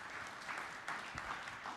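A church congregation claps for Jesus, a faint, steady ripple of applause with a few louder bursts, heard at a distance and low in level.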